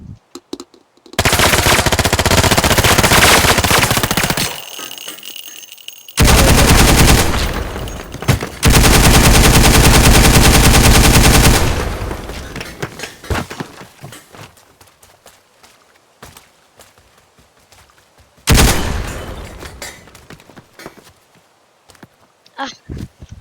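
In the video game Teardown, an Uzi submachine gun fires long, loud, rapid bursts, broken by brief pauses, followed by scattered crunching and clattering debris.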